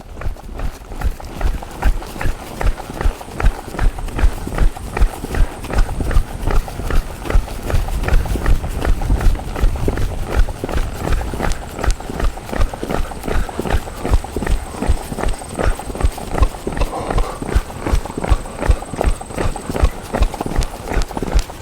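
A two-year-old colt trots steadily along a trail toward the woods, its hooves clip-clopping in a fast, even rhythm that continues throughout, close and fairly loud.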